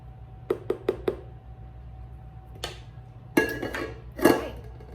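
A greased metal bread pan of banana bread clatters as it is set down and pushed into the oven, with four quick light clinks, a lone knock, then louder scraping metallic rattles of the rack and oven door close by.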